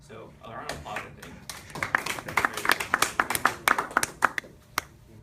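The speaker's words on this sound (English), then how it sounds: "So a round of applause, I think." An audience at an engineering student senate debate breaks into applause. Scattered claps build into dense, lively clapping that holds for several seconds, with a voice speaking over it.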